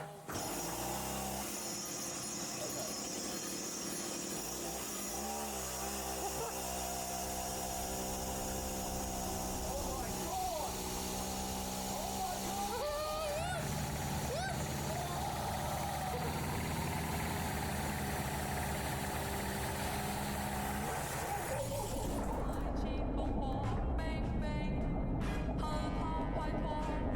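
A giant beyblade driven by a chainsaw spinning on a table, a loud sustained engine-like whir and drone with shifting pitch sweeps, under a layer of music and voices throughout.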